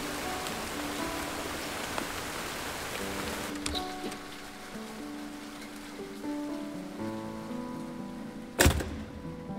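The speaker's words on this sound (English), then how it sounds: "It's a nice rainy day" Steady rain falling at a farmhouse in the video game Burnhouse Lane, a soft continuous hiss under faint sustained musical tones, with a sharp thump near the end.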